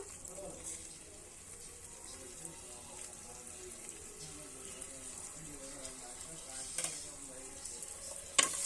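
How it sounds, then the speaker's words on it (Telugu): Ginger garlic paste frying with onions in a pan for a home-style chicken curry, a steady soft sizzle with stirring scrapes throughout and a couple of sharper clinks near the end, no talking. "అల్లం వెల్లుల్లి పేస్ట్ అయితే వేసుకుంటున్నాను"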